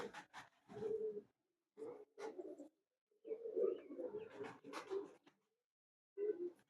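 A Teddy pigeon about eight or nine years old coos in repeated low throaty bursts with short pauses, close and fairly clear against a quiet background.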